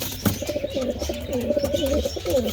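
Racing pigeons coo at a pigeon race in Calauag, Quezon: repeated soft, throaty rolling calls that overlap continuously at close range, with a faint low background rumble.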